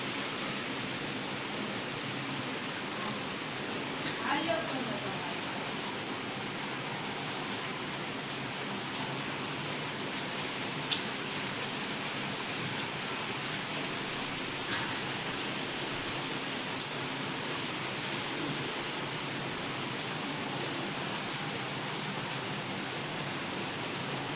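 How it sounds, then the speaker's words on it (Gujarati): Heavy rain pours down steadily, a dense continuous hiss with occasional louder drops, no voices. "અત્યારે તો ફૂલ અંધારી ગયો અને વરસાદ પણ એટલો જ આવે છે"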